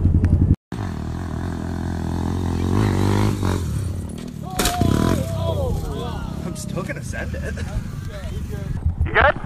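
A Honda Grom motorbike engine roars and revs hard during a jump, loud and close, then cuts out sharply before clattering and rider shouts take over.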